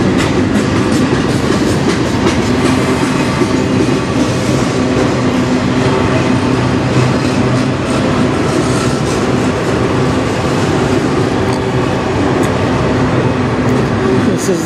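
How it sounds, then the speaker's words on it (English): A CN manifest freight train hauled by several locomotives rolls past close by, a loud continuous rumble with rhythmic wheel clatter and metallic rattling from the freight cars that holds steady throughout. "This is the first train coming from the States since I've been here all day."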